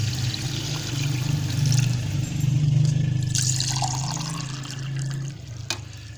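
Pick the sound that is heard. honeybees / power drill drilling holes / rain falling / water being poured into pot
water being poured into pot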